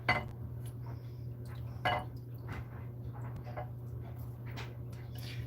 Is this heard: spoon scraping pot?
yes